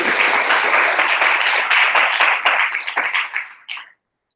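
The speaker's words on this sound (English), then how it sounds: "Please give him a round of applause." Audience applause at an evening lecture on antimicrobial resistance, a dense, fairly loud burst of clapping that holds steady for about three seconds, then thins out and stops abruptly.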